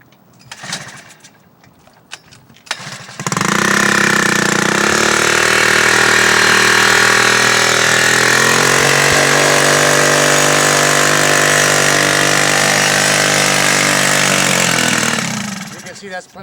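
A few mechanical clicks, then an engine fitted with a fuel reformer and no exhaust starts and runs loudly at a steady, harsh drone for over ten seconds before cutting off.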